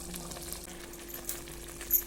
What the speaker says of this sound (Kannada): ಈಗ ಒಂದಿಟ್ಟು ಕುದಿಯಾಕೆ ಬಿಡ್ಬೇಕ್ರಿ